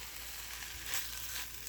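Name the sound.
turkey sizzling as it heats in a pan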